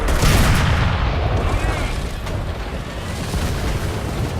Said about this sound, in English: I keep shooting at the Sherman.